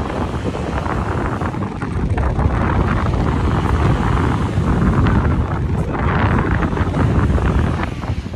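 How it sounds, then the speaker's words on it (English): Strong, cold wind buffets the microphone at the top of an observation tower at Point Pelee, Ontario, a loud continuous roar that swells and gusts throughout with no voices. "Super cold, super windy."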